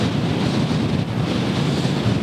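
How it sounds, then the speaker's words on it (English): Strong wind buffets the microphone at Juno Beach while choppy ocean waves crash in a steady, loud roar, with no voices. "Look how choppy those waves are."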